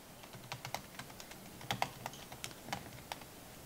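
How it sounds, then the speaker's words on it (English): A website address being typed on a computer keyboard, a quick irregular run of soft, close key clicks with a few firmer taps, no voices. "Next, I'll type in my website"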